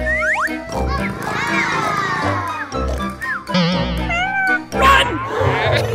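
Cartoon kitten meowing repeatedly in a children's toy play scene, bright high cries over a busy background of music and sound effects, with children's voices now and then.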